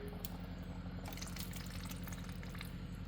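Coolant water sputters from the opened thermostat bleeder screw of a Honda Civic, a faint, continuous gurgling trickle with small irregular spurts as air escapes.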